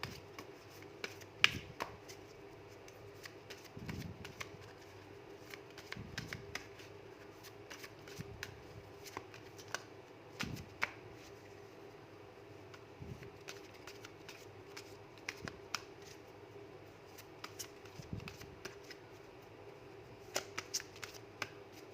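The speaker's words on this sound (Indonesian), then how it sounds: "Aku potong kartunya, aku bagi." Playing cards shuffled and cut, soft riffling and flicking bursts repeating at irregular intervals, close but quiet over a faint steady hum, no speech.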